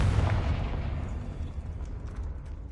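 Confringo fire spell explosion in Hogwarts Legacy, a loud burst with a deep rumbling boom that fades gradually over a couple of seconds.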